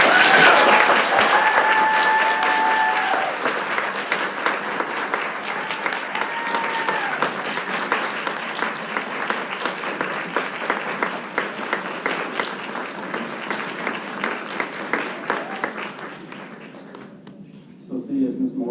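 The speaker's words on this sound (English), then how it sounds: "let's give these future teachers a round of applause" Sustained applause from a meeting audience honoring future teachers at an academic goals committee session, a dense clapping wash lasting most of the stretch before tapering off near the end.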